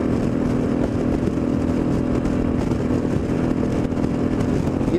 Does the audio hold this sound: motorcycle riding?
yes